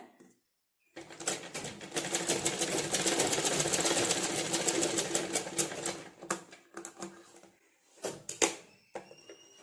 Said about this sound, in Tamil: இதை இந்த மாதிரி வச்சு ஈவனாக வச்சு இந்த ரோப் மேலே ஒரு ஸ்டிச் போட்டுருங்க.